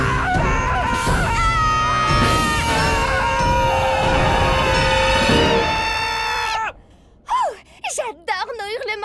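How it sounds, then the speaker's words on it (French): Cartoon characters let out a loud sustained morning scream together, long overlapping shrieking wails, then a sudden cutoff followed by a few short gasps and squeals. "J'adore nos hurlements du matin!"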